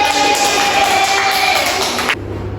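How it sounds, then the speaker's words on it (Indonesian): A class of fourth-grade children claps together in a school classroom, a dense burst of applause lasting about two seconds before stopping abruptly into quiet room tone. "Beri tepuk tangan."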